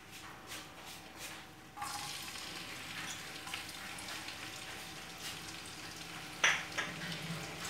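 Chopped garlic and onion frying in oil in a pan, heard as a steady sizzle that jumps louder after a couple of seconds, with light stirring scrapes and a brief clink near the end.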